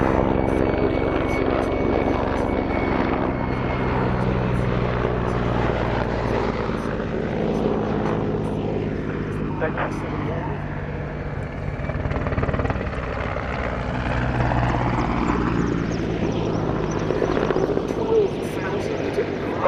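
A Mil Mi-8 helicopter roars steadily throughout with a deep rotor thump and engine whine, loud and close, its pitch sweeping slightly as it passes, at the Duxford air show.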